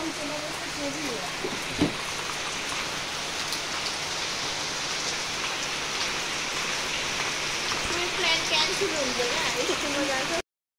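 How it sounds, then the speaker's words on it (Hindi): Heavy rain pours down at Whoopee Land water park, a dense, continuous hiss of water striking surfaces that holds steady throughout, with voices talking faintly beneath the downpour. "और भी बारिश तेजी हो रहा है"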